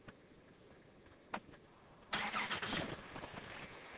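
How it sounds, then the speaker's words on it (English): A car engine cranks and catches after a couple of clicks, then settles into a steady idle, fairly quiet and close. "we'll start the engine."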